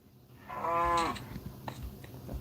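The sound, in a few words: cow mooing in Minecraft video game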